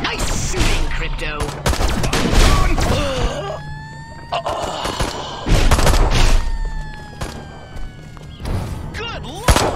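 Bursts of gunfire in Destroy All Humans! crackle loudly across a busy game scene, mixed with thuds, rising whines and shouted character voices over steady background clamor.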